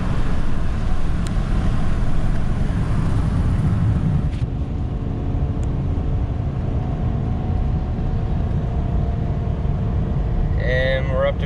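A 2021 GMC Sierra 2500 gas pickup towing a heavy load, heard as a constant low cabin drone of engine and road noise at cruising pace, with a faint higher chirp near the end.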